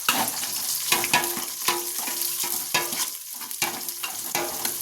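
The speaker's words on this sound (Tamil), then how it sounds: "இப்போ வெங்காயத்தை போட்டுக்கலாம் சரிங்களா இந்த கரண்டில் தான் எண்ணெய் ஊற்றிக்கணும் நல்லா பொறிட்டோங்க" Onions fry in oil in a small ladle for a Tamil fish curry, a bright crackling sizzle broken by regular quick scrapes and taps of stirring, with no talking.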